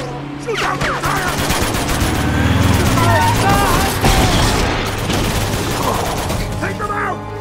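Dense bursts of rapid gunfire and booms fill a firefight in the video game Uncharted, with metallic mechanism clatter throughout; loud and continuous, with shouted character voices mixed in.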